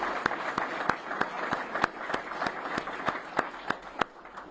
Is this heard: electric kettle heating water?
no